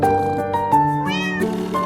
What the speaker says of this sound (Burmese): ကြောင်ကလေးတွေဟာတီတီအတွက်အံ့ဩစရာတစ်ခုကိုဖန်တီးပေးခဲ့ကြပါတယ်။